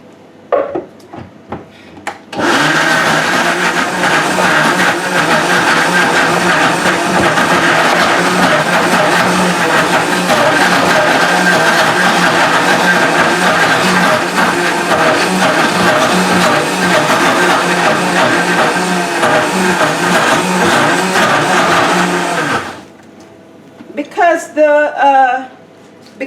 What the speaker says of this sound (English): So I'm just gonna put that right in the blender.